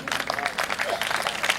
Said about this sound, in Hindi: जोरदार ताली, जोरदार